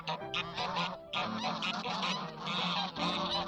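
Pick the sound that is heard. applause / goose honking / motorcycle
goose honking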